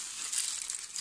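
A plastic bag is opened with a quick burst of close, crisp crinkling and rustling that lasts about a second.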